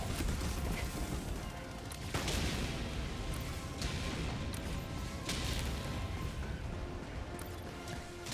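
Command bunker tower firing at the player in a sci-fi combat video game, sharp blasts and impacts repeating irregularly over a dense, noisy battle rumble, with no talk.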